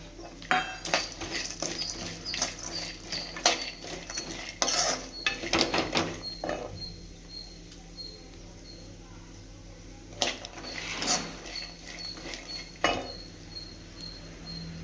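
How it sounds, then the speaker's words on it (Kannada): Sunflower seeds fried and stirred in a pan for a dry fruits laddu, heard as steady scraping and light clinking of a spoon against the pan, with a faint high whine behind it. "ಸ್ವಲ್ಪ ಚೆನ್ನಾಗಿ ಫ್ರೈ ಮಾಡ್ಕೋಬೇಕು. ಸನ್ಫ್ಲವರ್ ಸೀಡ್ಸ್ ಹಾಕಿದೆ."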